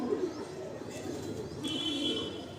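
A breeding pair of loft pigeons coo softly and continuously at close range, a low throaty burbling that rises and falls, with faint ambient noise behind.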